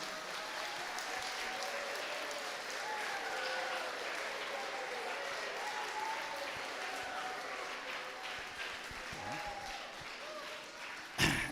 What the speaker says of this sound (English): Big clap to Andrew.